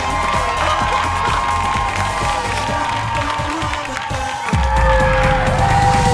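A lively crowd claps and cheers with whoops and shouts, loud and continuous, and swells sharply near the end; voices are heard among the noise.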